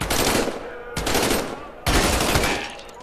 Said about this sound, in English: grab your M1A1 submachine gun